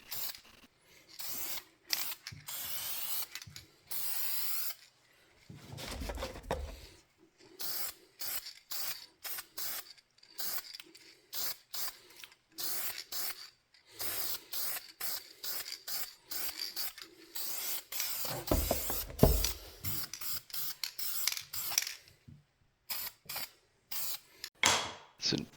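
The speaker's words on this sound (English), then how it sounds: "Now we're just using a matte black spray paint here just to make the plane look a little more new again." Short hissing bursts of a matte black spray paint can on a hand plane body, repeated in quick irregular pulses with brief pauses, close and fairly faint, plus a couple of longer sprays.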